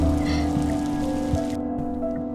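Continuous rain from the Block Story video game patters at night over a steady low hum, with scattered soft taps, until the high hiss abruptly drops away near the end.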